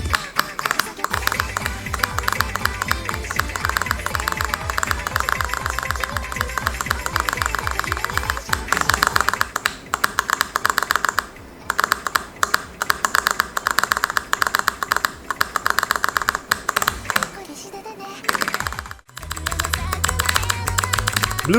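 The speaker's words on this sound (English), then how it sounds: "Here's how the keys sound like." Keys on a mechanical keyboard are typed rapidly and continuously in a dense clicking, clacking stream, loud and close, with a few brief pauses toward the end.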